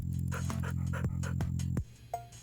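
A dog in a video game pants in quick rhythmic breaths as it is petted, close and steady for about two seconds before stopping, followed by a short soft whine.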